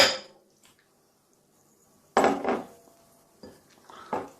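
Raw chicken going into a mixing bowl of marinade for butter chicken: a few clinking, clattering knocks against the bowl, separated by quiet gaps, close and fairly soft.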